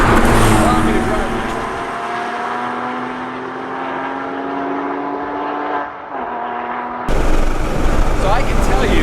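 A 2005 Porsche 911 GT3 engine pulls hard while driving, a loud, steady, rising harmonic drone that dips briefly near the end before surging back with louder intake roar.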